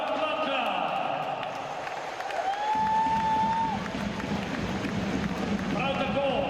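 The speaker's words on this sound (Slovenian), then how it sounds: "Torej, aplavz za Roka Plankla." A handball arena crowd applauds for RK Celje Pivovarna Laško player Rok Plankl, swelling into a steady, broad wash of clapping from the stands after an announcer's voice.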